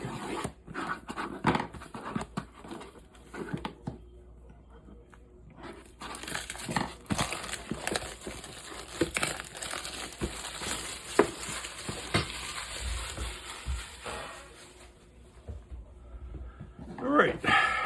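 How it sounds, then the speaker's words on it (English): Cellophane wrap being peeled off a 1/25 scale 1969 Barracuda fastback model kit box, close crinkling and crumpling in irregular bursts with pauses, with someone talking at times. "let me get the cellophane off to get some of the shine from the light"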